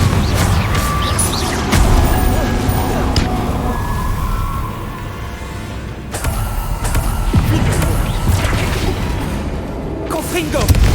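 Spell blasts in the Hogwarts Legacy video game boom and crackle repeatedly over busy music and effects, with a person talking throughout.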